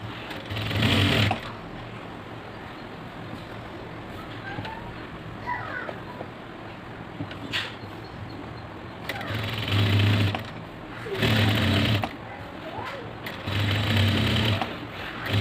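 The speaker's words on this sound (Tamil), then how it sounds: "ஸோ கொஞ்சம் கொஞ்சமாக ஸ்லோவாக மூவ் பண்ணி ஸ்டிச் பண்ணுங்கள்." A sewing machine stitches a chudidhar in short bursts of whirring, starting and stopping several times as the fabric is moved slowly, with quiet pauses between runs.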